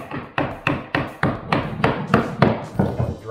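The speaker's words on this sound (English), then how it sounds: "Sometimes it's easy to put up at an angle and then hammer it and" A hammer taps a laminate flooring plank into place with about ten sharp, evenly spaced knocks, close and loud with no talking.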